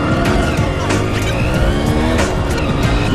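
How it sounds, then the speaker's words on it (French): Loud, close 1982 Kawasaki KE two-stroke motorcycle engine running steadily, a continuous buzzing drone with small fluctuations in pitch. "Moteur de pétrolette."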